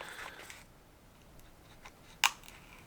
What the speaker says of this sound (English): I'll cut the seal on this side